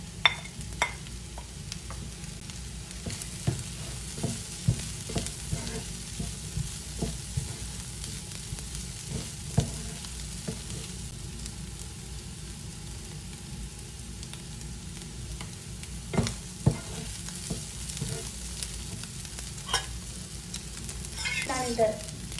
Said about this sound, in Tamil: இந்த பொரிச்சு மீனை கலக்க போகிறேன்.